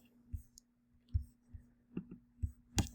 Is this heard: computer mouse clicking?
yes